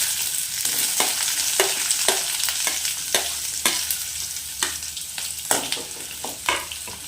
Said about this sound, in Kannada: ಇದನ್ನು ನೀಟಾಗಿ ಫ್ರೈ ಮಾಡ್ಕೊಳ್ಳೋಣ